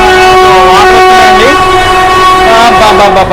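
A loud train horn blares continuously at close range from the Narasapuram–Tiruvannamalai weekly express, heard from on board, its steady tone wavering briefly in pitch before holding again.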